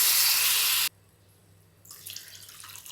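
Water poured from a tap into a pan for masala noodles, a steady loud gush that stops abruptly, then a softer splashing flow resumes after a short pause.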